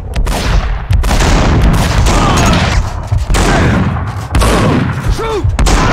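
Heavy gunfire in the Max Payne 2 video game, loud dense volleys of shots and booming impacts nearly continuous throughout, with brief lulls and a ricochet-like whine near the end.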